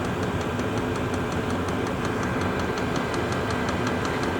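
A Chinese diesel heater runs steadily, blowing warm air with a constant close-up fan hum and faint rhythmic ticking from the fuel pump.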